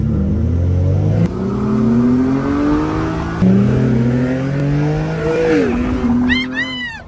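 A car launches hard from a standstill in a drag-style start, its engine roaring loud and close as it climbs through the revs. A sharp squeal of tires rises near the end.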